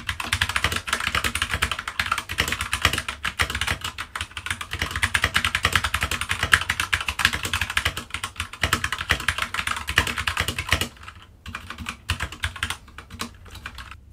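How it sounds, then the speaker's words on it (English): Real-world typing on a Keychron K2 hot-swappable Bluetooth mechanical keyboard: a steady, dense stream of close, crisp key clacks for about eleven seconds, then it thins to a few scattered keystrokes near the end. "And a sound test of some real-world typing."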